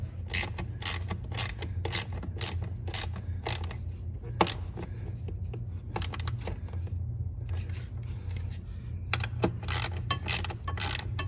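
Ratchet clicking in quick irregular bursts as bolts are tightened on a Ford Explorer canister purge valve, over a steady low hum, with short pauses between runs of clicks.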